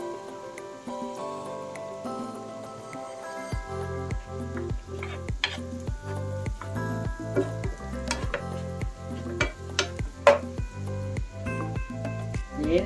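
Prawns and tomato being fried in a tablespoon of olive oil in a pan, with a steady close sizzle and repeated rhythmic stirring scrapes throughout.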